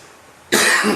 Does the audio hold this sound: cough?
yes